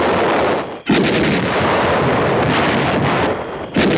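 Loud, dense artillery and gunfire from a 1951 Korean War-era battle film roar almost without pause, with sharp blasts cutting in and wind-like rumble beneath.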